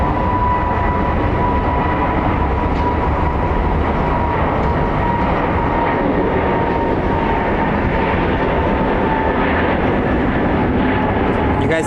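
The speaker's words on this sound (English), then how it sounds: "Let's send this plane off." A Frontier Airlines jet taking off at Phoenix Sky Harbor airport, a loud continuous engine roar holding steady throughout with a faint whine on top, heard from nearby.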